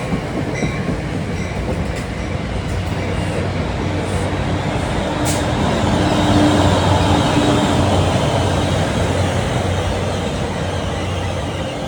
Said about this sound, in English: Here comes 1220 from Waldwick to Hoboken.